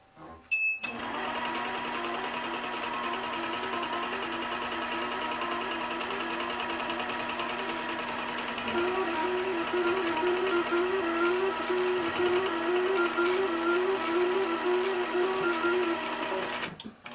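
A sewing machine stitches a quilt pattern, running as a loud, steady mechanical whir from start to finish, with a faster rhythmic chatter joining in during the second half, close by and with no voices.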